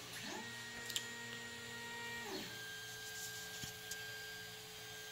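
A 3D printer with a heated bed auto-homes, its stepper motors whining in gliding tones that rise, hold and fall, with a few light clicks, all quiet and close in an otherwise still room.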